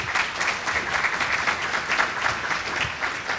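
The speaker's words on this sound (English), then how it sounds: "Let's go ahead and give them a round of applause," An audience at a city diversity awards celebration applauds the sponsors, with steady, moderately loud clapping from many hands filling the room without pause.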